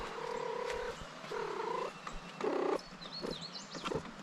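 A shop cat purring close by in short rumbling bursts, with faint high chirps and small clicks scattered through the stretch.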